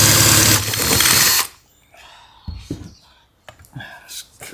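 A power drill bores into the plastic frame of a camper van's sliding shower door, whirring loudly and close for just over a second before cutting off, followed by quieter handling noises and brief soft talk.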